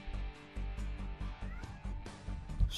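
A cat meows repeatedly beside a PS4 game of Loadout, its cries rising over steady game sounds and music at close range.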